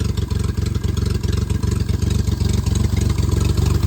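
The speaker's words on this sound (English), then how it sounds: "Definitely idling down as it warms up." A Geo Metro car engine idles steadily up close as it warms up, a low rhythmic chugging with a faint clatter, running alone without any voices.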